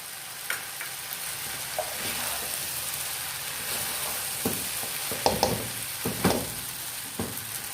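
Boiled spaghetti tossed into a chicken and vegetable stir-fry in a pan: a steady low sizzle under scraping stirs, with several louder clanks of the spatula against the pan toward the end.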